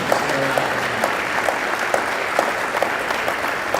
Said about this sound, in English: Round of applause for these two guys and their teams.